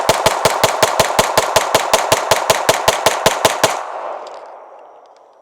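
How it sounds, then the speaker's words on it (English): Rapid string of about twenty pistol shots from a competition Glock 45 emptying a magazine at an outdoor range, loud, close and evenly spaced, ending abruptly with a fading echo and no speech. "I'm gonna do one more mag dump"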